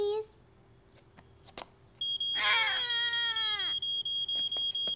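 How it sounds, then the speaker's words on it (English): Cartoon fire alarm rings loud and steady, a continuous high electronic tone blaring for several seconds with faint pulsing dips, preceded by brief quieter sounds. "let's listen to the alarm again to recognize it"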